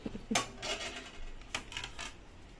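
Metal spoons clink against dishes in a home kitchen as food is served: several sharp, close taps and rattles spaced across a few seconds.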